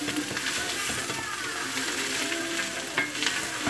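Eru greens are stirred in a pot over heat, giving a continuous dense sizzle with scraping and rustling from the spoon throughout and a few louder knocks near the end; no voices.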